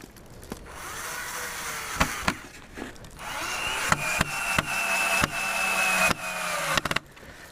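A power drill bores into wood while pieces are pinned together for a homemade fishing rod. A steady, close grinding whine rises midway and is broken by sharp knocks and clunks, with no talking.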